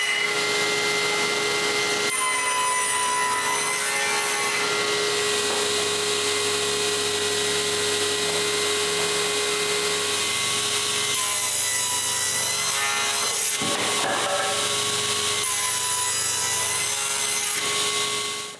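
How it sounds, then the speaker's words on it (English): A saw cuts tenon cheeks in wood using a tenoning jig, a steady loud whining drone of the blade in the stock that runs without a break, close and with no talking. "I get the tenoning jig and cut all the cheeks of all the tenons"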